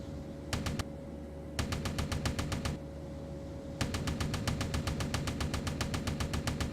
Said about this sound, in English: Let's try our hand at being a gunner on the Orlican.